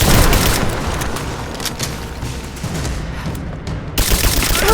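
Dense bursts of gunfire and booming shots from a firefight in the video game Rise of the Tomb Raider, loud and continuous with rapid overlapping volleys and a brief lull before firing resumes.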